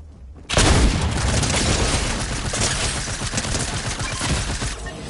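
A video game cannon fires, opening a loud dense barrage of booming, rattling blasts that continues for several seconds at high volume.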